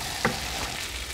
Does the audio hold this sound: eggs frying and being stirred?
yes